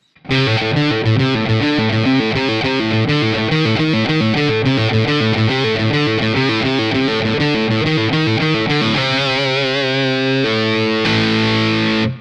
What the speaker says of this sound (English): I'm playing my Gibson 335 today.